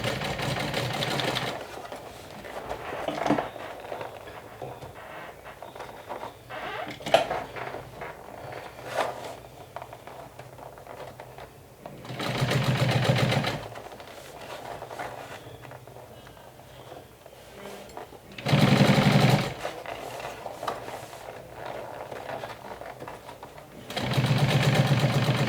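A sewing machine drives through six to eight layers of thick fabric for a handbag-backpack in short, loud bursts spaced between quieter stretches of handling and shuffling.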